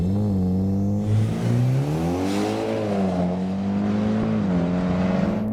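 A Mitsubishi Evo X pulls away from a standing start at a sprint circuit, its engine note climbing steadily in pitch as the turbo spools, with a brief dip mid-pull like a quick gear change, loud and close with no talk.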